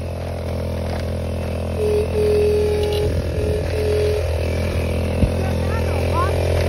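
A four-stroke scooter engine runs with a steady buzzing drone and some rattling, and its pitch and level rise slightly partway through. People talk over it nearby.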